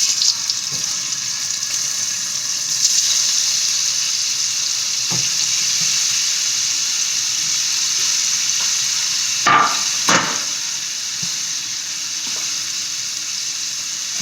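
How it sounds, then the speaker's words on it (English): Cornstarch-coated tofu frying in a pan, a loud continuous sizzle with a few sharper bursts and stirring clatter partway through and no talking. "Tofu doesn't take long to fry up. All right, let's go ahead and drop in the tofu."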